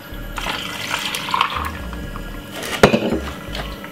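Water poured into a blender jar with spinach, banana and ice for a smoothie, a steady running splash for several seconds with a sharper clunk near the end.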